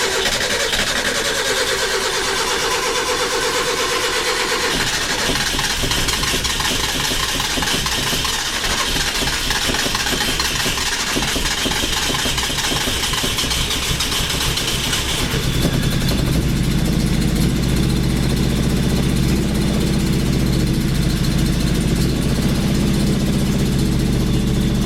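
A 12A rotary engine cranks for several seconds, then catches and settles into a loud, steady idle.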